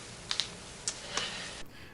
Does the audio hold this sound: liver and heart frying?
no